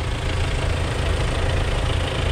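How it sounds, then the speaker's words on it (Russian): A tractor engine idles steadily at close range, a loud continuous low rumble with a rough, even throb and no voices over it. "Трактор, вот газовый конь."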